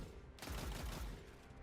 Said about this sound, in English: you can use a machine gun to take down this major cabal as well